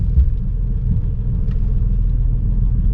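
A car from a salvage auction lot idles with a steady low rumble as it is shifted into gear and rolls forward, the engine drone continuous and close with no other sounds over it.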